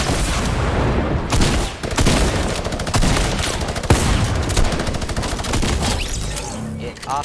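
Dense rapid gunfire in a Fortnite match, with bursts of loud repeated shots and booms over several seconds and a player's voice talking underneath.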